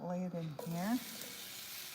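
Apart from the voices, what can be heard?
shrimp sizzling in cast iron pan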